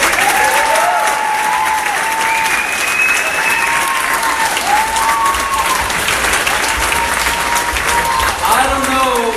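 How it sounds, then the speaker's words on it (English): A crowd applauds at a political concession speech, sustained loud clapping with cheers and shouted voices rising over it. "give yourselves a round of applause."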